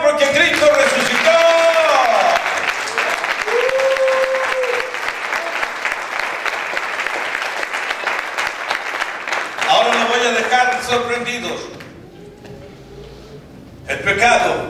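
A church congregation breaks into sustained, loud applause that fills most of the stretch, with a voice talking over it before the clapping dips and swells again near the end.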